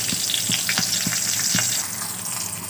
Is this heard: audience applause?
no